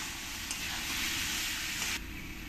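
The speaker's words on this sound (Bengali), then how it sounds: "এবার আমি যে আলু পটলটা ভেজে রেখেছি তাই এর মধ্যে দিয়ে দেবো, দিয়ে ভালো করে মশলার সঙ্গে কষিয়ে নিতে হবে।" Fried potato and pointed gourd sizzle steadily in spice paste in a hot pan, a dense, continuous frying hiss that swells briefly in the middle as the mix is stirred, with no voices.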